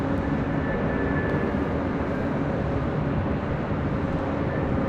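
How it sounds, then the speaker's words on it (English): Jet airliner arriving at LAX from Istanbul: a steady, loud, broadband engine roar with a faint whine, continuous throughout without talk. "That was the flight coming in from Istanbul"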